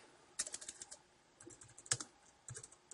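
Fingers tap a MacBook Pro keyboard in short bursts of close, crisp clicks, a quick cluster, a pause, then two more brief flurries.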